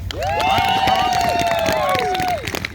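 Spectators at an outdoor polar dip fundraiser clap and cheer for swimmers in cold water, a dense steady burst of applause with high whooping voices on top, loud and continuous before tapering off.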